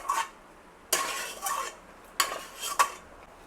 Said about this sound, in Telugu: మళ్ళీ ఒకసారి ఇదంతా నీట్గా కలుపుకోవాలి.